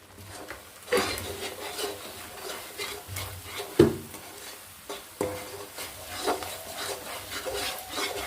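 Salt is stirred into chicken pickle with repeated scraping, rubbing strokes against the pot and a few sharper knocks, steady and close over several seconds.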